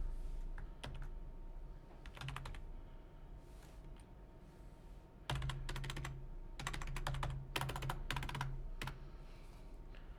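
Rapid bursts of computer keyboard typing with keys that sometimes stick, coming in short clustered flurries separated by pauses, close and fairly quiet, with no talking.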